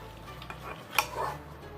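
Kids stir Easter slime with a fork, giving a faint, short burst of wet squelching and a light metallic clink against the bowl, close and quiet.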